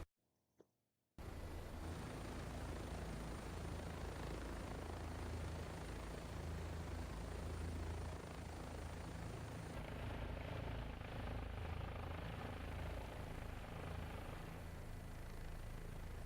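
After a moment of near silence, a video game helicopter's rotor and engine drone starts up and holds steady and loud until the end.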